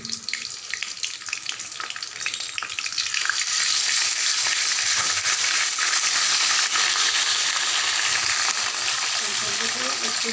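Ginger paste and spices frying in a pan for a vegetarian soybean curry, a sizzle that starts moderately and swells into a loud, continuous hiss by mid-clip, close up with some stirring.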